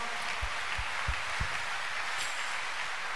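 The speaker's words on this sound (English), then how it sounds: "clap for Jesus" Church congregation clapping for Jesus, a steady dense wash of many hands at moderate level through the whole stretch, with a few louder thumps underneath.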